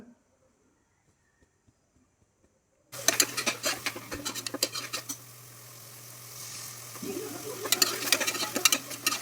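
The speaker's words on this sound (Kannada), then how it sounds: "ಗ್ರೈಂಡ್ ಮಾಡ್ಕೊಂಡಿರೋ ಮಸಾಲ ಐಟಮ್ ರುಬ್ಬಿರೋದು ಹಾಕಿ ಸ್ವಲ್ಪ ಫ್ರೈ ಮಾಡ್ಕೋಬೇಕು ಎಣ್ಣೆ ಬಿಡೋ ತನಕ" Ground masala paste with tomato hitting hot oil in a pan, silent at first, then a sudden loud sizzle with clattering spoon strokes against the pan, settling into steady frying and rising again with brisk stirring.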